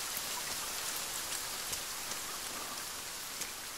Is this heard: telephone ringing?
no